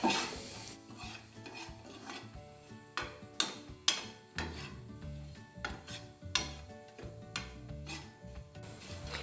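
Coriander powder and chili powder being stirred in a pan for a breadfruit and duck egg curry, a close series of rhythmic scraping and rubbing strokes with sharp clinks of a utensil against the pan.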